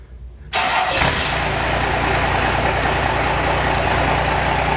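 A Dodge 2500 4x4 with the 12-valve engine cold starts after a moment of quiet, catching at once and settling into a loud, steady, close diesel idle.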